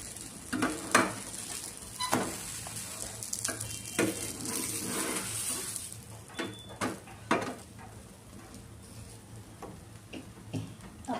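A besan bread cheela roasts on a pan with a soft, continuous sizzle, broken by repeated sharp taps and scrapes of a spatula against the pan surface, close up and without talk.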